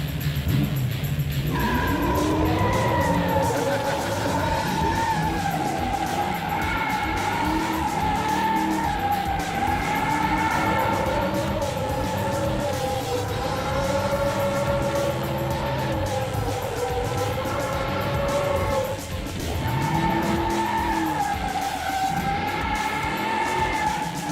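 Car doing a burnout with tires spinning, a loud, sustained squeal and engine roar that holds for over twenty seconds with wavering pitch and a brief dip near the end.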